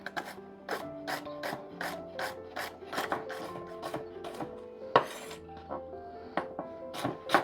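A knife chops through celery on a cutting board, a quick run of crisp taps with faint clinks, close and fairly quiet, with no talking.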